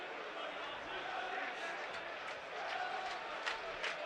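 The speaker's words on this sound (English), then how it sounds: "Crowd not happy." A football stadium crowd at a Premier League match between Burnley and Southampton gives off a broad, steady roar of displeasure after a foul, distant and sustained, with faint whistles and shouts in it.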